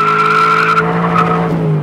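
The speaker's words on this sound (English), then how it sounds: "But just lit the tires up." Tires on a 2001 Ford Mustang SVT Cobra spin and squeal in a loud, steady, high-pitched screech under revving engine noise, close and continuous with no talk.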